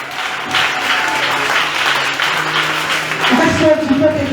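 A church congregation at a Sunday service applauds the Lord, with loud, continuous clapping from a crowd close by and a voice speaking over it near the end.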